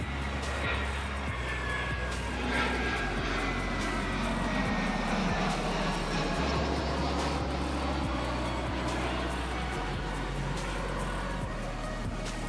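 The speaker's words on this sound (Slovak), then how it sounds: "Takže takto tu každých 15 minút letia lietadla, lebo tu za nami je letisko." Airplane passing low near an airport, a continuous loud engine roar with a broad rushing wash and slowly shifting whine, close and sustained for the whole stretch, with faint voices beneath.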